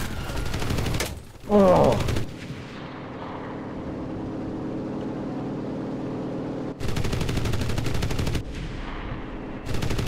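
Heavy 50 cal machine gun fire in a war video game comes in sustained loud bursts, one near the start and a longer stretch mid-clip, with a battle rumble between and a brief exclamation from a player.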